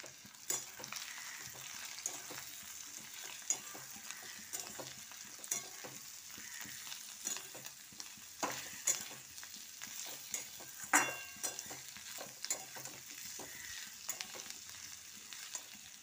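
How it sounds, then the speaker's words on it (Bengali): Marinated jackfruit fries with browned onions in a pan, giving a soft steady sizzle broken by frequent scraping and clinking stirs that rise into sharper spikes. "এবার আমি এঁচড়টা তুলে দিলাম। ম্যারিনেট করা যে এঁচড়টা রেখেছিলাম সেটা আমি তুলে দেবো।"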